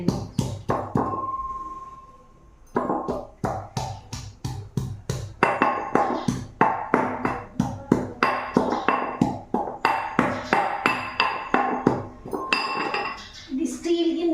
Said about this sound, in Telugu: అప్పటికప్పుడు దంచేస్తే చాలా టేస్ట్గా ఉంటుంది కదా, దంచుకుంటున్నాను.